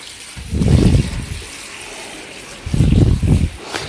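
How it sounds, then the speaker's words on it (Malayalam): Water poured over Chinese potatoes (koorka) comes in two loud, close, gurgling splashes, each lasting under a second, separated by a quiet pause. "വീണ്ടും വെള്ളം ഒഴിച്ചു വെള്ളം ഒഴിച്ച് വെച്ചില്ലെങ്കിൽ കൂർക്കയുടെ നിറം മാറിപ്പോവും"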